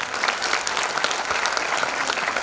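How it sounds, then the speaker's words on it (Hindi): An audience at a pre-primary school dance program claps loudly and continuously, a dense, even patter of many hands close by with no voices rising above it. "आपकी तालियों में भी थोड़ा जोर होना चाहिए"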